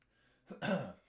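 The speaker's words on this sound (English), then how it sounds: "I have to clear my throat" A single short, close throat clearing, a quick rough rasp lasting under a second.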